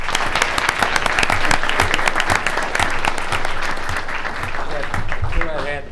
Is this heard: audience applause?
yes